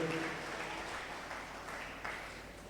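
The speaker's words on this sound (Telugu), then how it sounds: "గట్టిగా చప్పట్లు కొట్టి గట్టిగా కొట్టాలి." A church congregation at a Telugu testimony service claps loudly and steadily, a dense wash of hand claps filling the room with no voices standing out.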